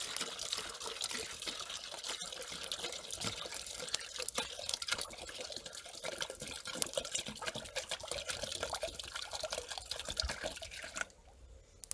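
Water pours steadily into a cooking pot at a scouting campsite, meant to be boiled for noodles and hot drinks; a continuous close splashing, liquid stream that fills the whole stretch and thins out near the very end.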